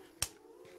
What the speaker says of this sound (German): So, hast du gerade eine Mücke geklatscht?